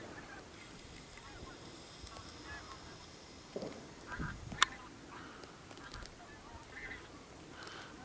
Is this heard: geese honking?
yes